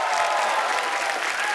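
Steady, dense applause from the studio audience of a TV comedy show, a continuous wash of many hands clapping at even loudness throughout, close and full, with no speech over it.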